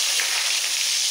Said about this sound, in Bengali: এবার এই তেলের মধ্যে আলুটা ভেজে নেব।